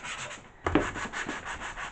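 Sandpaper rubs on a wooden table top during furniture restoration, in steady close back-and-forth strokes with a short pause before a firmer pass.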